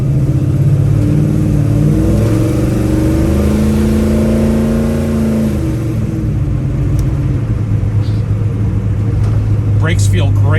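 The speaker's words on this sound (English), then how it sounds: "I'm just gonna go through the gears nice and easy here to show you guys how the car shifts" A 1970 Chevrolet Chevelle V8 is driven through its gears at an easy pace, the engine note rising in steady pulls and dropping at each shift. The exhaust rumbles loud and close, with no one speaking.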